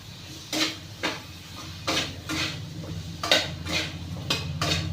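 Moong dal being stirred in a pot, the spoon scraping and knocking against the metal in a series of short, fairly loud bursts spaced about half a second to a second apart, with no talking.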